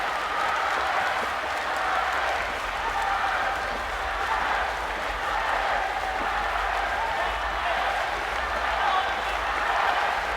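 Crowd cheering and applauding at a para swimming race at the 8th ASEAN Para Games 2015, with Myanmar supporters backing their swimmers. The roar is steady and continuous throughout, with a commentator's voice beneath it.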